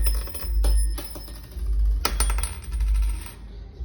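A gold coin drops and rings, with several sharp clinks and bounces over a low rumbling background, close by.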